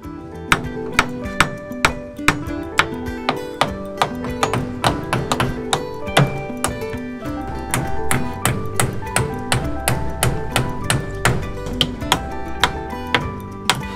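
Nails are hammered into wooden slats of a goat house wall, sharp loud knocks in quick irregular runs of strikes over a background of steady music.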